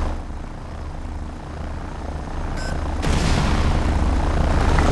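A gunship helicopter in the strategy game Rise of the Reds, a steady rotor and engine drone that swells louder partway through with a brief tonal blip, continuous and close.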